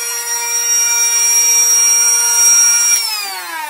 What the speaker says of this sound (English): I'm going to make sure I don't cut through the weld.